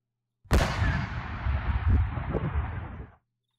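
One sudden loud boom of a video-game firework bursts out of silence and rumbles on for a few seconds before cutting off abruptly.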